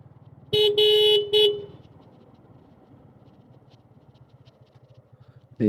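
A vehicle horn sounds in a few short, loud blasts close by over a quiet, low rumble of traffic, then stops, with another brief burst right at the end.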